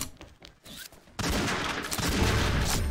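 Gunfire erupts from above in the XSHOT shooter game, a sudden loud burst of continuous shots after a quieter stretch of scattered sounds, sustained dense fire to the end.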